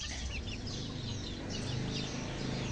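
Chickens in a Filipino poultry house with new battery cages cluck steadily and close by over a dense, continuous farmyard din of many birds, with no one speaking.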